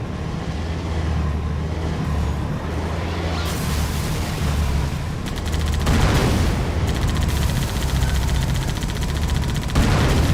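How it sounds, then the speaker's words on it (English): Tank cannon and gunfire in the Halo 2 video game on the Delta Halo mission, a dense continuous battle din of shots, booms and a low rumbling engine, loud and sustained throughout. "Be patient, stay back, and blast them all with your tank."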